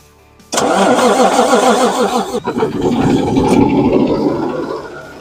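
A 2014 Peterbilt truck engine with water in the fuel cranks with a rapid rhythmic starter whir, catches after a couple of seconds, then settles into a loud, steady running rumble close by.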